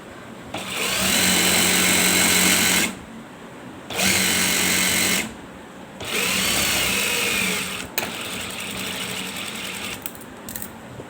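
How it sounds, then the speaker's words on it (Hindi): A sewing machine stitches a ladies' belt shalwar in three steady motor runs, each a couple of seconds long and separated by short pauses, followed by a quieter, more uneven stretch of stitching. No voices are heard. "18 सेंटीमीटर पे हमने इसको सिलाई कर देना है"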